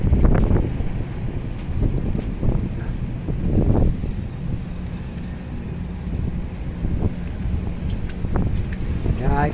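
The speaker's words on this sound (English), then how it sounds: "yeah, it's kind of windy out here" Strong wind gusts buffet the microphone in a snow storm downtown, rumbling in low bursts with a steady rush in between, and a person talks intermittently over it.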